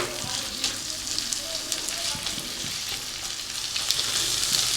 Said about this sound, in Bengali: এবার এটাকে যতক্ষণ না শুকনো শুকনো হচ্ছে ততক্ষণ মা কষাবে।